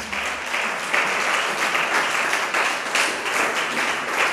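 A church congregation applauds steadily during a worship service, a dense, continuous wash of clapping from many hands that stays loud and even throughout, with no voices rising above it.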